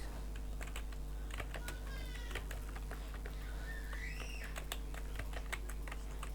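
Quick, irregular keystrokes on a computer keyboard enter router commands for a Cisco BGP configuration, clicking close up over a steady low hum. A cat meows several times in the background.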